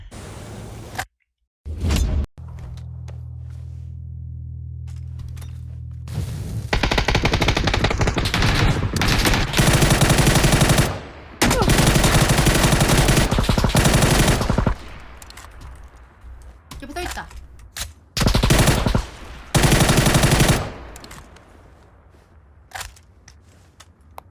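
Gunfire in the video game PUBG, with loud, close automatic bursts and sharp repeated shots in several long volleys separated by brief gaps, plus a lower engine-like drone early on.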